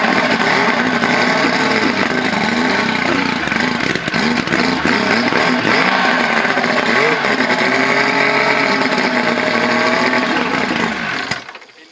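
Outboard motor mounted on a 1984 Grady White Overnighter 20 boat running close by, a loud buzzing engine drone that rises and falls slightly in pitch before dying away at the end.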